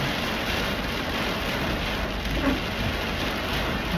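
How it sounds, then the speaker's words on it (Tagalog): Steady, dense rain pours throughout during flash-flood weather in Dubai, a broad hiss with a low rumble of thunder underneath; no voices. "Grabe, may kulog kidlat."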